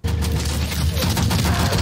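Rapid machine-gun fire from a war film depicting the 1940 German attack on Denmark, a loud, dense burst of crackling shots filling the whole moment with booming impacts underneath.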